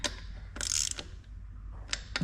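Ratchet tightening small 6mm bolts on a Toyota Landcruiser HZJ75 during 4WD system repair: a few short clicking bursts, close and fairly quiet, with pauses between.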